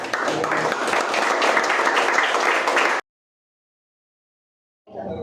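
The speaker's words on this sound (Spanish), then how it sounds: "Le damos gracias con un fuerte aplauso." Church congregation at a Holy Week cultural gathering giving a loud round of applause for three seconds, then silence, before clapping picks up again.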